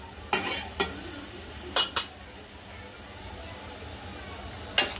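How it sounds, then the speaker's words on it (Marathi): Masala stir-frying in oil for dhaba style dal khichdi, with a low continuous sizzle and a few bright metallic scrapes and clinks of a spoon against the pan, fairly quiet. "तेल सुटेपर्यंत चांगलं याला परतून घ्यायचं आहे."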